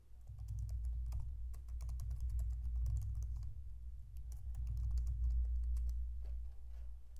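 Steady typing of code on a computer keyboard, a dense run of quiet, irregular key clicks over a low background hum, with no voices.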